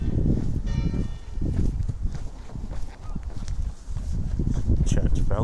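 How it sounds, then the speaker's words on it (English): Church bells ring somewhere nearby while footsteps and a person talking continue over steady outdoor background noise. "Church bells there, I didn't even know."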